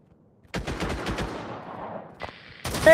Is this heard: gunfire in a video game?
yes